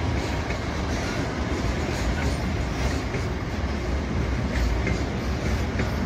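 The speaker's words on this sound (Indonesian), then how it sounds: "Kereta api barang kontainer ini dengan lokomotif CC206 ya, akan melintas langsung di stasiun Jatinegara dan melewati jalur 5" Container freight train hauled by a CC206 locomotive passes straight through Jatinegara station on track 5, a loud, continuous close rumble of wheels and wagons with faint clattering throughout.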